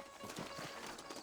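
Saddled horses' hooves clip-clop at a walk in Red Dead Redemption on PS5, a quiet, steady beat under a faint game backdrop.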